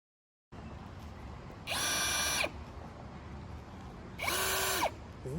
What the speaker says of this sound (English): Andy is pre-drilling the holes for the bracket for the fan.